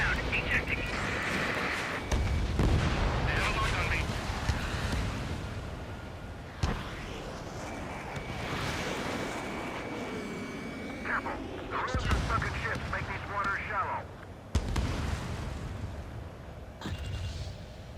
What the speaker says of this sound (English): Missile away. Missile.